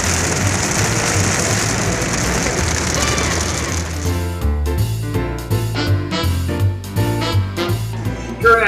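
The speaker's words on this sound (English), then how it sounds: "It's raining in Vegas." Steady rain falls in Las Vegas, a dense hiss of drops that gives way to heavier, irregular patter and drips on a nearby surface, loud and close throughout.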